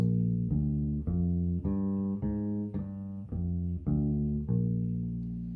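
A bass guitar plays a slow arpeggio bass line of single sustained notes, each plucked about every half second, stepping through a repeating pattern with no talking.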